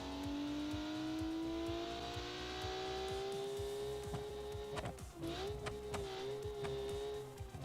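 A Hussar Moonline, a 1995 budget sports car, driving in BeamNG, its engine holding a steady hum that climbs slowly in pitch, briefly dips near the end with tire noise, then settles again, close and continuous.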